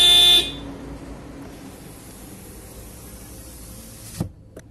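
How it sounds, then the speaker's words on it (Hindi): Tata Punch Creative AMT car horn sounding in one short, loud blast at the start, followed by quiet cabin background and a brief click near the end. "इसमें आपको कुछ इस तरह का हॉर्न मिलेगा।"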